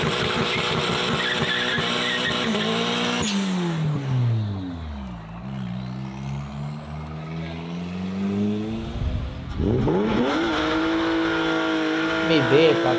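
Cars rev hard and pull away one after another, loud and close, engines climbing and dropping in pitch through their gears, with voices mixed into the roar.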